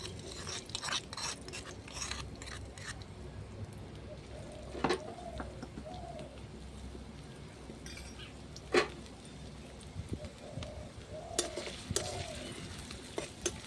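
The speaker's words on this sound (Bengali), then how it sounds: "আদা পেঁয়াজটা একটু ভাজা ভাজা করে নেব।" Chopped ginger and onion fry in a pan with a soft continuous sizzle, broken by stirring strokes and occasional clinks of a utensil against the pan.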